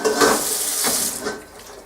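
Hot tap water runs into a pot to rinse cooked spaghetti noodles, a steady splashing hiss with a couple of surges as the stream shifts, close and alone without talk.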